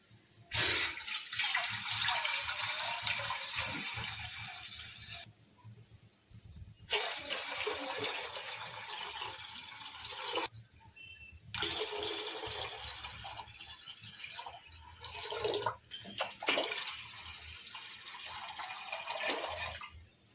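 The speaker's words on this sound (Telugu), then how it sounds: "ఒక 5 లీటర్ల వాటర్ పోసుకోవాలి." Water pours steadily into a pot, about five litres for boiling rice, in several long bursts with brief pauses between, a rushing splash close up and no voices.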